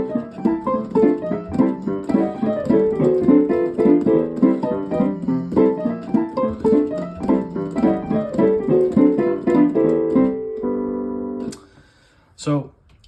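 Stride-style piano plays the same swing-era chord progression with a right-hand melody on top, a busy, steady solo performance that ends on a held chord followed by a couple of faint knocks.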